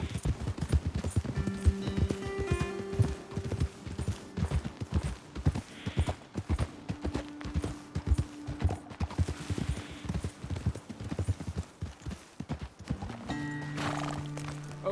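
Horses ridden at a steady walk in Red Dead Redemption 2, a continuous rhythmic clip-clop of hooves close by, with faint tack jingles and a brief snort, no talking.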